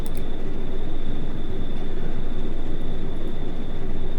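A bomber plane loaded with heavy bombs on a test flight in War Thunder, its engines droning in an even, loud, continuous hum with a faint high whine.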